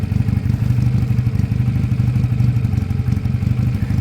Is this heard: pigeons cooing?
no